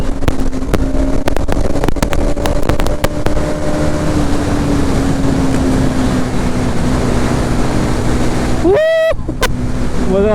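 A Bajaj Pulsar NS200 BS7 motorcycle engine drones steadily while riding, loud and close, with a rising rev and a sharp gear-change gap near the end, wind rushing constantly underneath.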